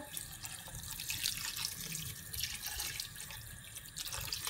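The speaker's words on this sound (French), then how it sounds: "je vais venir couvrir ma blanquette d'eau" Cold water runs from a tap into a pot of blanquette pieces to cover them, a continuous close splashing gush with faint dripping and no pauses or voices.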